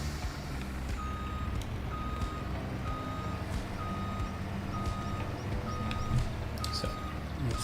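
A dump truck in a farming video game backs up with a steady, evenly spaced reversing beep repeating about once per second, set against a constant low engine drone and machinery rumble.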